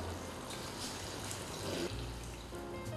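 Water is poured into a bowl of coconut cream for blending, giving a soft, steady trickling and splashing that runs for a few seconds at low volume with no talk.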